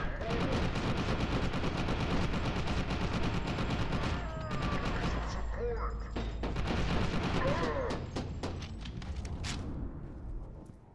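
Enemy nail gun fire in the shooter FEAR 2 Project Origin, dense rapid bursts of loud gunfire that thin into scattered sharp shots toward the end, with a voice speaking briefly in the middle.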